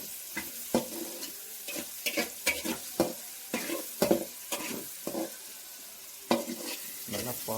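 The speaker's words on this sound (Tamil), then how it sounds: "அதாவது நல்லா பொன்னிறமாக வதங்கணுங்க" Onions and tomatoes fry in a pan for fish gravy, a steady sizzle broken by repeated sharp scrapes and stirs of a spoon against the pan, fairly close and moderately quiet, with no talking.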